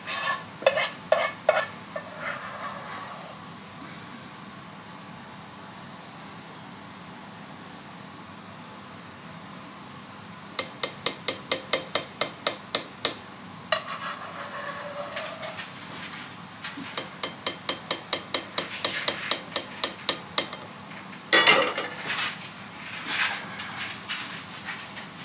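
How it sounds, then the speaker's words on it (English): A whisk spreads banana pudding around a bowl in bursts of quick rhythmic taps and scrapes, separated by quiet stretches, with one louder clatter near the end; no voices. "So I'm just going to kind of use the whisk to finish smearing it out."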